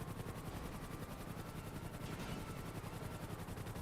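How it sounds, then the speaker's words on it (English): A helicopter in the GTA video game during a racing session, heard as a steady rhythmic rotor chop with broad engine noise, fairly faint but continuous throughout. "Got a lot of helicopters in today."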